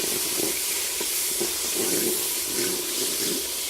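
A pot of rice pilaf with green chillies frying in a home kitchen gives off a steady, soft hissing sizzle that holds evenly throughout with no talk over it.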